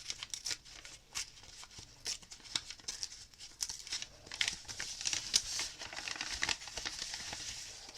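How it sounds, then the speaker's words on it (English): Paper torn slowly along a line for a collage, a run of close crackling rips and crinkles in uneven bursts, fairly quiet with no speech. "So now I'm going to tear down this line here."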